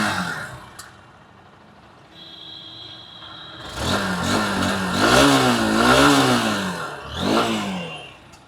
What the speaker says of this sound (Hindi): इंजन साउंड सुनाता हूँ, एग्जॉस्ट साउंड सुनाता हूँ।